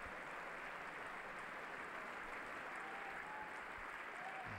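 Members of Congress clapping at the State of the Union, a distant, even wash of applause heard faintly across the chamber.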